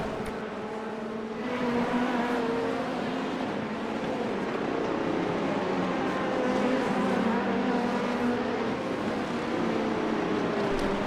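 Race cars, including a GTP prototype, in the sim racing game iRacing, a continuous droning engine roar with shifting pitch as cars run close by, steady and loud throughout with no talk.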